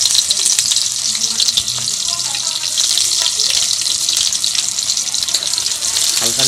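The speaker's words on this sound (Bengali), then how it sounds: "দিয়ে হালকা নেড়ে নিয়ে এবার দেওয়া হচ্ছে কুচানো পেঁয়াজ।" Chopped onion and bay leaf sizzle loudly in hot oil, a dense continuous frying hiss with occasional stirring scrapes, close up and without pause.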